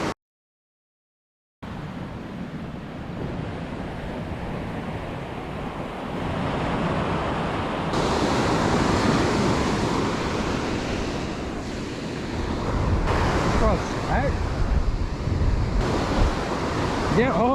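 Ocean surf breaks steadily on a beach sandbar, a continuous loud wash of crashing waves with wind buffeting the microphone, swelling in intensity partway through.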